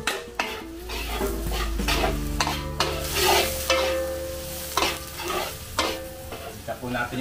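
Garlic frying in a hot wok, loud crackling sizzle with busy scraping and clanking of a metal spatula against the pan, close up, with a low hum underneath.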